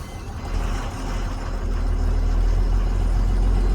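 A large truck loading aluminium scrap powder gives a loud, deep engine rumble that builds and holds steady, with a rushing hiss like air brakes over it and no talking.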